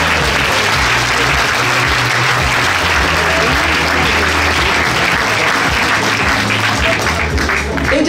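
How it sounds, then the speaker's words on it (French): Dense, steady applause fills a hall at a Republican political meeting in Neuilly-sur-Seine, a loud continuous wash of clapping from a large audience that holds evenly throughout. "vous avez Georges Cifrédier que vous pouvez applaudir"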